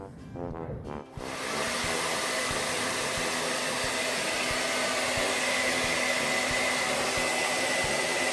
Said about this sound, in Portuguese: a gente vai secar a peça com nosso secador de cabelo